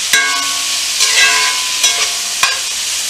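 Shrimp fry in a hot pan with a steady, close sizzle, broken by a few sharp clinks of a utensil against the pan.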